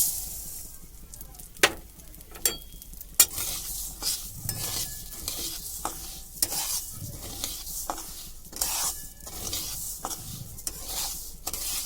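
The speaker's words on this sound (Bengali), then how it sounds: "এরপর আবার 1 চামচ ঘি দিয়ে গোবিন্দভোগ চালটা ভেজে" Gobindobhog rice frying in ghee in a pan while a spoon stirs it, giving steady soft sizzling with repeated scraping strokes and a few sharp clinks of utensil on metal, close and moderately loud, with no talking.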